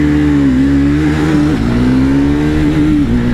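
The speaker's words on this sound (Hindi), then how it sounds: "बहुत बहुत मतलब बहुत स्मूथ इंजन है यार इसका" A Triumph Speed 400 and a 2024 KTM Duke 390 are in a drag race, one engine roaring loud and close, holding steady and then dipping briefly at each gear change before pulling hard again.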